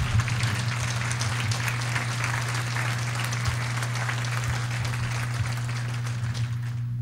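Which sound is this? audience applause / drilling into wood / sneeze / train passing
audience applause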